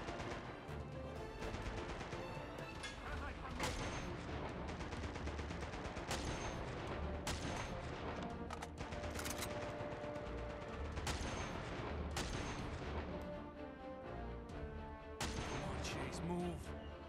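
Dense gunfire from the video game Uncharted: Golden Abyss on PlayStation Vita, loud and continuous, with rapid bursts and heavy crashes layered over a game soundtrack.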